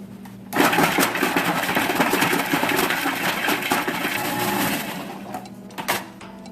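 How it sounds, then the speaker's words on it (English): A food processor whirs continuously while blending walnut pesto, starting abruptly after a brief pause and running loud and close for about five seconds before cutting off and pulsing once more. "It's better, but I am going to use food processor."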